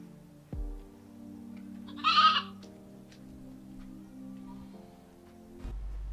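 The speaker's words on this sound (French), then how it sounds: "à qui appartient cette chèvre?" A goat lets out one short, nasal bleat partway through, fairly close and clear over a quiet indoor background with a soft thump at the start.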